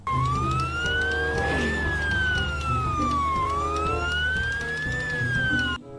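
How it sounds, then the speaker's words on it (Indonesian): A toy ambulance siren wails in a rising and falling electronic tone, a near, loud, continuous sweep that cycles twice before cutting off abruptly. "Ada mobil ambulan."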